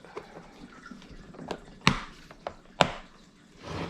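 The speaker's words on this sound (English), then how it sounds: "Drop the lid shut." A hinged lid on a kayak trolling-motor LiFePO4 battery box dropped shut, giving two sharp close knocks among lighter clicks and handling taps, no voices.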